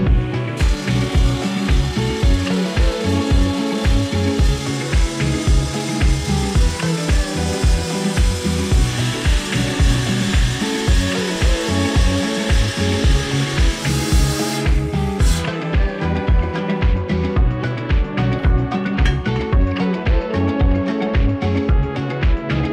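A power tool cuts square steel tubing for a go-kart chassis built from a Cozy Coupe, giving a steady, loud, continuous grinding-saw noise with a pulsing texture that runs for the whole stretch, no voices present.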